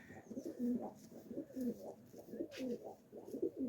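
Finnish breed pigeons give a steady run of soft, low, rolling coos that repeat throughout, close and fairly quiet.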